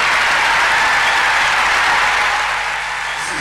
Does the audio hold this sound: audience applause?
yes